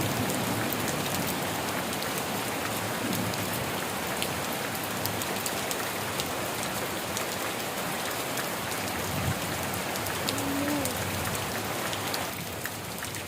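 Heavy rain pours down in a dense, continuous hiss of drops striking surfaces nearby, with no pauses and no voices.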